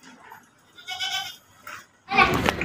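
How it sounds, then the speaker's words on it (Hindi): A pink goat, a milking nanny kept for sale with two young kids, male and female, bleats in a few short wavering calls, with a louder, harsher bleat near the end. "मेरे पास एक गुलाबी बकरी है, 2 बच्चे नर मादी"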